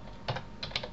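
Quick burst of typing on a computer keyboard, a handful of close, crisp key clicks in an uneven rhythm over a quiet room.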